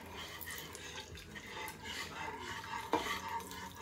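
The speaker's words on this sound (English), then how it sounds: "You want to whisk it constantly so that way you won't get lumps in the gravy." Turkey gravy being whisked in a pot, a quiet, continuous swishing and scraping with a faint liquid bubble and one small clink, close by.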